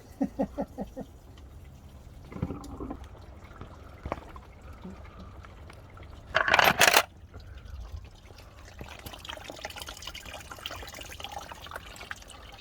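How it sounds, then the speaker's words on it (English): Coolant drains from the radiator of a Mitsubishi Warrior pickup truck, a faint trickle and drip with a short loud gush of liquid partway through, heard close by in a quiet garage-like space. "that's the old radiator drained"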